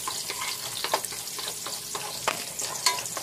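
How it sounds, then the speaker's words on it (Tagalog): Onion sautés in oil in a pan with a steady hiss and crackle, while spatula stirs and scrapes land in quick, uneven strokes close by. "Pag nagigisa ako, inuuna ko talaga ang sibuyas."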